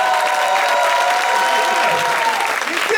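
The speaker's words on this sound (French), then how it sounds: "Est-ce qu'on peut applaudir pour Tristan," A stand-up comedy audience applauding, with dense, loud, continuous clapping from a crowd and a little cheering mixed in throughout.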